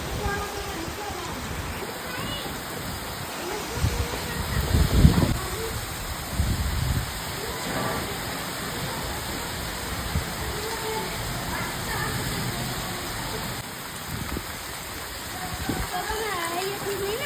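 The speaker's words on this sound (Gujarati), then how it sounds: "વરસાદ આવી ગયો ફાઇનલી" Steady rain falls in a constant, even hiss over farm fields at the start of the monsoon, with a few soft thuds and rustles mixed in and no one speaking.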